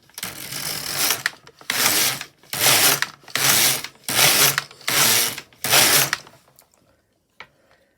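A knitting machine carriage is pushed back and forth across a row while decreasing, producing seven loud, regular mechanical rasping swipes, each about half a second long, followed by a quiet pause.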